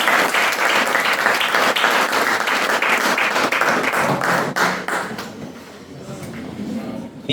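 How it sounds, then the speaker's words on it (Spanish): Sustained audience applause at a formal academic ceremony, loud and steady for about five seconds, then thinning to scattered clapping with some murmuring voices. "Un aplauso caluroso para él."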